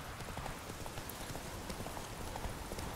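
Horse hooves clip-clop at a steady walking pace in The Witcher 3: Wild Hunt on PS4, a continuous rhythmic patter under a broad wash of ambient game noise, moderately close.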